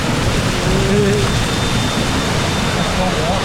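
A waterfall pours down onto a family raft on the Gang Plank Falls slide at Typhoon Lagoon, a loud, continuous, close rush of splashing water with faint voices beneath it.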